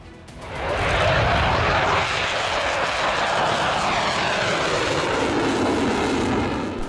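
Israeli fighter jets, F-16I Sufa and F-15I Ra'am, roar past overhead; a loud, sustained jet engine rush swells in within the first second and holds steady, with no voices.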